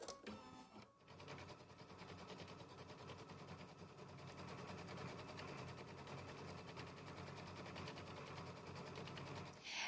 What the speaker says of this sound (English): begin the fun part, which is stitching the background quilting